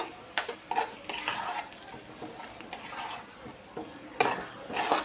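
A spatula stirs broad bean and moong dal patodi curry in an oiled pan, making repeated soft scrapes and knocks in an uneven rhythm, close and moderately quiet.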